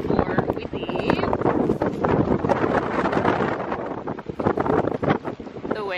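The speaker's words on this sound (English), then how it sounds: "The wind is crazy" Strong, gusty wind roars across the microphone outdoors at LaPush on a cold, wet coast, loud and continuous with rough buffeting throughout and faint voices partly buried beneath it.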